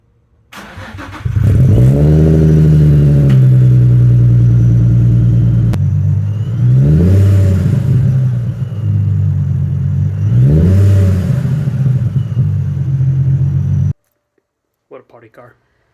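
A turbocharged Nissan 350Z drift car with a titanium exhaust starts and idles loudly close by, then revs up twice in strong swells, the exhaust roaring before cutting off abruptly.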